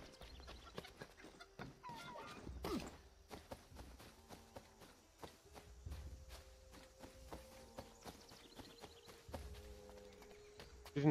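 Chickens clucking in the video game Assassin's Creed III, scattered short calls with footstep-like clops over a quiet outdoor game ambience, no talk.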